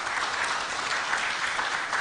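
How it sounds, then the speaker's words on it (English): A conference audience applauds a speaker at the close of a panel discussion on financing, with a short, steady, even wash of clapping throughout. "So big round of applause to you"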